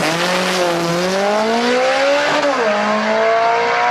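A turbocharged all-wheel-drive Eclipse coupe races at a drag strip, its engine note loud and sustained as it climbs in pitch, dips briefly at a shift, then rises again, with no talk.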